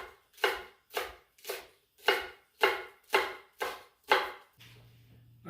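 Knife slicing green onions thinly on a board, eight crisp, evenly spaced chops in a steady rhythm, close and clear, then a brief low hum after the last cut.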